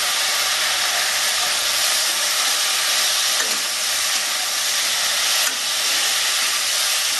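Vegetables sautéing in a pan for Bengali shukto with salt and turmeric, a steady, continuous sizzle and hiss that stays loud and even throughout, with no talking.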